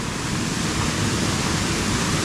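Creek water on Mingus Creek in the Great Smoky Mountains rushes steadily where it is diverted from Mingus Mill, a dense, continuous close-up roar of flowing water.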